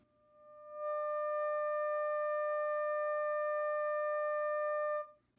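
Steady sine test tone passed through a Heathkit T4 guitar tube amp, rising in over a second, holding level with buzzy harmonics showing distortion, then cutting off after about four seconds; no talking.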